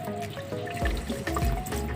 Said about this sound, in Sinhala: අන්න ඒ ගඩොලට උඩට තමයි අපි වතුර දාන්නේ.